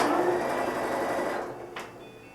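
A sewing machine runs steadily at close range while stitching a patchwork block, giving a continuous mechanical whir and rattle that eases slightly toward the end.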